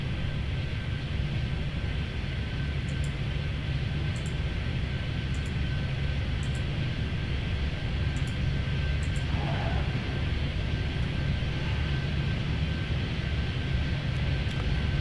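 Steady airplane engine drone in the Airport Madness 3D air traffic control game at San Francisco airport, a continuous broadband roar with faint high clicks, no talk.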